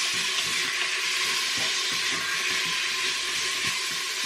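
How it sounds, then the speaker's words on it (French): Pepper is stirred into a mixture sizzling in a frying pan while filet mignon cooks. There is a steady, close frying hiss with faint scraping of the stirring underneath. "Hop, je mélange bien le tout."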